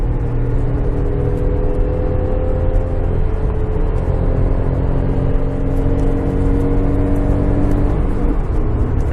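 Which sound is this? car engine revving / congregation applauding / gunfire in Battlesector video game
car engine revving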